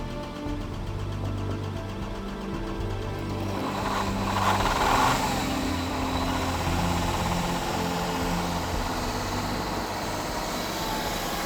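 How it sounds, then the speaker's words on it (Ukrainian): A car that has stood unused for six months, cranked and turned over while being readied for the front line: a rough, steady engine drone that swells and then settles into a loud, continuous running rumble with no talk. "машина не запускается"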